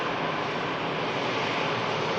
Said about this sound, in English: the next aircraft to touch down, another Loganair, of the prop variety, coming in from Nuki ATR 72600